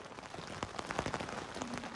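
Steady rain pattering on the surface around a mountain camp on Mount Agung, Bali, a dense continuous hiss of drops with scattered louder close hits and no voices.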